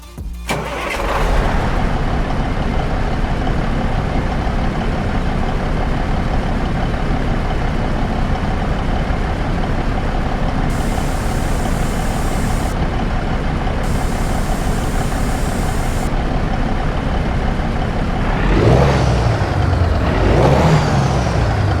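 A Freightliner Cascadia Gen 5 truck with a 505 hp Detroit DD15 engine cranks over and settles into a steady, loud diesel idle in American Truck Simulator, with revving swells near the end.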